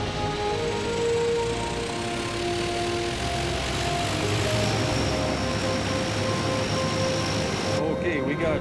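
An aircraft engine runs at about 10,240 RPM on a frozen plane, giving a loud, steady roar with sustained tonal whine that holds for the whole stretch.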